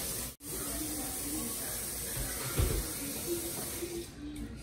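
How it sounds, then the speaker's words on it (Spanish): Oil poured into a pan holding cooked chicken, giving a steady sizzling hiss that runs close and constant throughout, with a brief crackle near the middle. "Ahora le voy a poner un chorrito de aceite."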